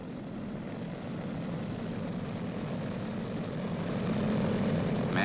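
A B-29 bomber's piston engine runs up with a steady droning roar that builds slightly louder toward the end, with no voices over it.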